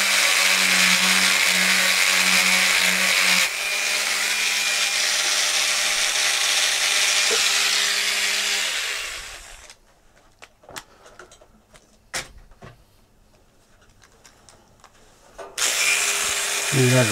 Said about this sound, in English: We'll get our polishing wheels out.